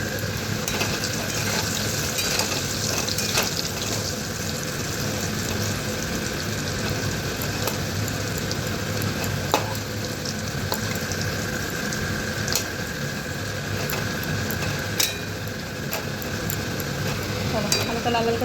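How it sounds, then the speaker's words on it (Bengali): Potatoes frying in a pan on a home kitchen stove, a loud, steady sizzle with occasional stirring scrapes and clinks throughout. "আলুটা ভাজা বসে দিয়েছি।"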